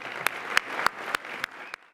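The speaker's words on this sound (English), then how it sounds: "Another round of applause for our award winners." Applause from a gala audience for award winners at a Texas faith, family and freedom event: a dense crowd clapping with regular louder claps close by, building steadily, then cut off abruptly near the end.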